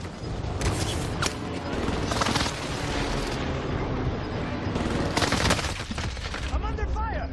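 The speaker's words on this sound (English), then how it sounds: "I'm under fire." Video game gunfire crackles in dense bursts and volleys throughout, near and loud, with several sharp sustained barrages over a busy battle background.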